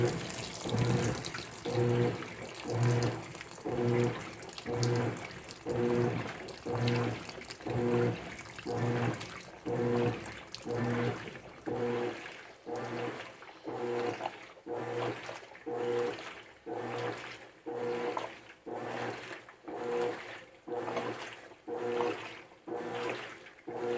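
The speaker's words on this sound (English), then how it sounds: "this is dumping in hot water" Whirlpool-style HE Turbo Energy Star washing machine fills with hot water during a whites rinse cycle. Rhythmic pulsing water and motor surges repeat every second or so, close and steady, with occasional faint talk.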